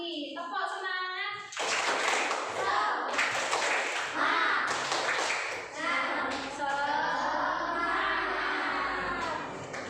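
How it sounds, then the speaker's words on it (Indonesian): A primary school class does the rhythmic tepuk semangat clap, bursts of hand claps in quick patterned sequence mixed with children's voices, following a teacher's short spoken cue. "Sekarang kita beri semangat lagi. Tepuk semangat."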